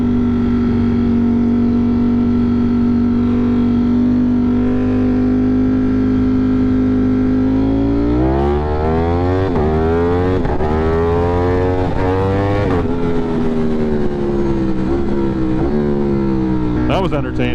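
A Mazda car engine holds a steady drone, then revs and accelerates from about eight seconds on, rising and falling through several surges, loud and close.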